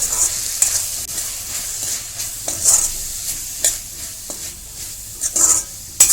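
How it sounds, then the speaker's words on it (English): Garam masala and bhaji masala get stirred into frying vegetables in a pan, repeated scraping stir strokes over a soft steady sizzle, close and uneven in rhythm. "Mix all the masalas with the vegetables."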